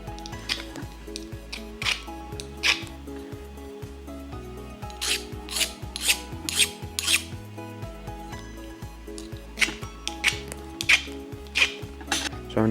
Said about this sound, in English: when I use the file on the part that didn't get heat treated, which is the back right here, it digs in and you can hear that it sounds much deeper